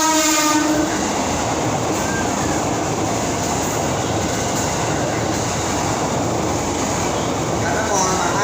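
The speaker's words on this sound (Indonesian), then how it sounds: "Jadi kereta api lewat." A train rolls past close to a railway station, a steady broad rumble with rhythmic clatter that lasts throughout, after a short horn-like tone at the start and faint voices underneath.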